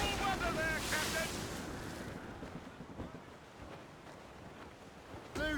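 Stormy open-sea weather aboard a sailing ship in Assassin's Creed Rogue: roaring wind and surging waves fill the scene, loudest at the start, with creaking rigging and a sharp swell near the end.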